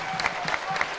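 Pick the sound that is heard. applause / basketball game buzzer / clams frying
applause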